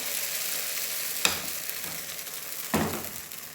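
Appam batter poured into a hot, ghee-greased appam pan on the stove, a soft crackling sizzle broken by two sharp bursts as the batter hits the metal, with no talk.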